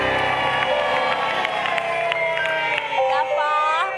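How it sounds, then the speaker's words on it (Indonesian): Studio audience cheers, whoops and claps on an Indonesian TV dating show, a loud, dense crowd roar running steadily throughout, with some shouting voices mixed in. "Boleh kita berikan tepuk tangan sekali lagi buat Viera."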